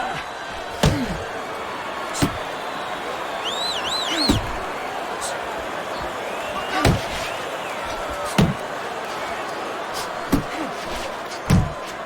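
Boxing punches land in Fight Night Champion as sharp, isolated thuds every second or two over a steady arena crowd roar, with commentary voices in the background.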